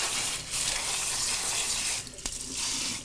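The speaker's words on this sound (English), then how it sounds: "You're going to rinse the hell out of them." Running water from a tap rinses drained pickles in a sink, a steady broadband gush that dips briefly in the middle before resuming.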